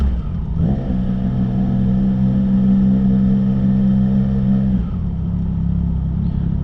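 Motorcycle engine with a welded-together exhaust, revving up from a low idle into a steady, loud droning hold and then dropping back, heard up close with no talk.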